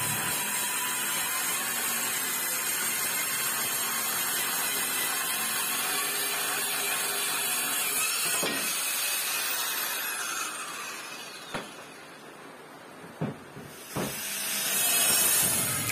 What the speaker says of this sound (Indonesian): Lanjut saya gunakan untuk memotong kayu mahoni.